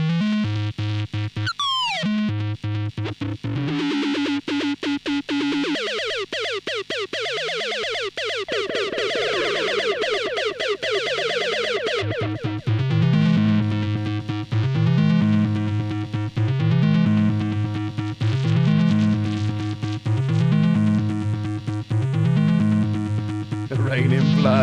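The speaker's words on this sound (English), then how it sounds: "So that's just a distortion pedal." A synth played through a Dark Matter Little Big Muff distortion pedal, a loud, buzzy, fuzz-saturated tone with a sustained drone that gives way to a steady repeating bassline pattern of chunky distorted notes, with no talking.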